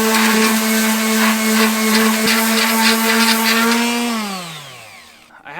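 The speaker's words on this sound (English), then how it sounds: "So I want to sand most of all this Bondo off." A power sander grinds Bondo body filler off a John Deere R92 lawn tractor outdoors, a loud steady whine with strong harmonics that holds for about four seconds, then drops in pitch as the tool spins down.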